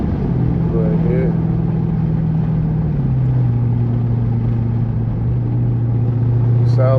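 A cammed 2016 Dodge Challenger R/T with a 5.7 engine, stage 2 Comp cam and straight pipes cruises with a loud, steady low rumble that shifts in pitch partway through, while someone talks over it.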